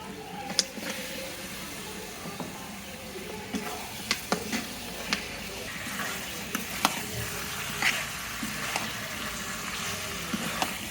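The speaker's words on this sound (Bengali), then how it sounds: "মশলাটা কষানো হয়ে গেছে এবার মাংসগুলো দিয়ে দেবো" Meat tipped into a pan of spice paste fried down until done, sizzling and frying steadily with scattered clinks and stirring knocks throughout.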